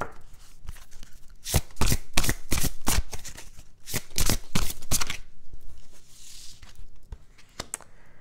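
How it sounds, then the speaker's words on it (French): Oracle cards are shuffled, drawn and handled by hand: a cluster of sharp, close flicks and snaps in quick succession, followed by softer rustling and a few last taps, with no talking. "Et on va aller prendre la première carte."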